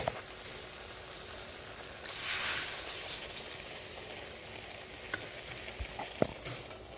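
Sugar goes into cooking carrot halwa in a pan, with a brief soft hissing rush followed by scattered light scrapes and taps of stirring, close by and without voices.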